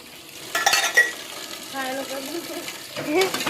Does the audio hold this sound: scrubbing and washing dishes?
yes